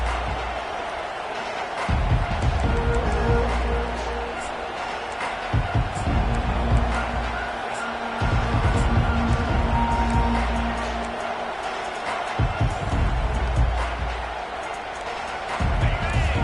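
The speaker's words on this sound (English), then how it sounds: "This crowd bringing an ear-splitting welcome to their visitors." A stadium crowd at a football game roars in a loud, sustained wall of noise welcoming the visiting team, swelling and easing in waves, with a commentator's voice talking over it.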